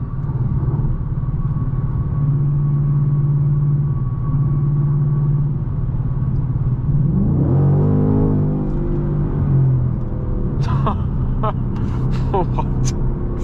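A 2024 Ford Mustang GT Premium V8 rumbles steadily from inside the cabin, then revs up in a rising surge of acceleration before settling again, with people talking over it.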